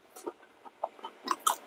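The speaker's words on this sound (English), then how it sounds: "It's got a crunch to it." Faint, irregular crunching comes from bites of keto cauliflower mac and cheese with bacon and a crispy pork-skin topping, heard as several soft crackles over about a second and a half.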